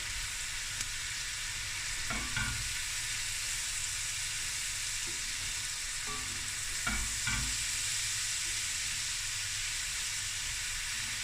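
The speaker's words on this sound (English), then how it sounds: "Give the slightest of stir." Oyster fried rice with dark soy sauce sizzles in a frying pan under a steady hiss, with a few brief scraping stir strokes, close and alone.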